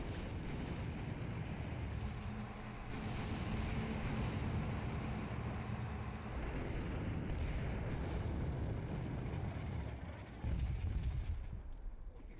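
Artillery strikes in the wargame Combat Mission Black Sea rumble as a continuous heavy barrage, with a louder blast near the end.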